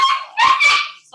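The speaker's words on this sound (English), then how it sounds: "Oh, my dogs are fighting." Dogs fighting and barking: two or three sharp, high yips and barks in quick succession, close and fairly loud, with no talk.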